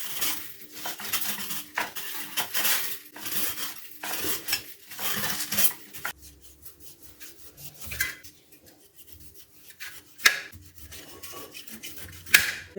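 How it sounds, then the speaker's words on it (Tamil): A knife scrapes the skin off roasted baby jackfruit in a series of close, dry rasping strokes, dense at first and then thinning into sparser scrapes and a few sharp clicks. "இந்த கத்தியை நல்லா லைட்டாக அப்படியே சுரண்டுனாலே போதும்"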